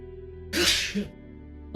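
A single sharp human sneeze bursts out close and loud against a quiet indoor room, followed by a short trailing breath and the start of another sound at the end.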